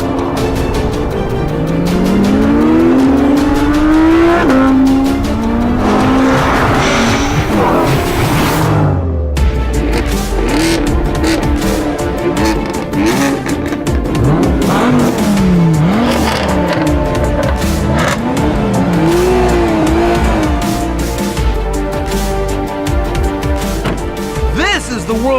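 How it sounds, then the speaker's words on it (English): A McLaren 570S and an Audi R8 V10 Plus sports car drag race, with loud, continuous engine roar, rising and falling revs through gear changes and tire squeal, close and dominant throughout, with a voice audible beneath. "This is the world's greatest drag race 6."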